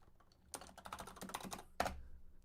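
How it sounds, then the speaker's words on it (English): Rapid typing on a computer keyboard during a late-night live stream, a close burst of irregular clicking keystrokes followed by a brief pause and one final hard key press. "typing this in chat."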